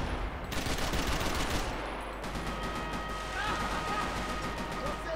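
Gunfire in the multiplayer mode of the video game Max Payne 3: a dense, steady stream of shots and impacts filling the whole stretch at an even loudness, with a player talking over it.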